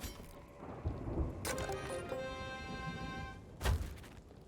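Storm in the video game Sea of Thieves, rain hissing over low rumbling thunder with sharp ringing bell-like tones and a loud crack near the end, no talking.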